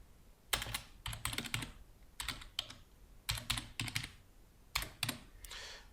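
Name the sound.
computer keyboard typing a password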